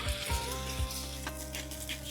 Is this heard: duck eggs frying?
yes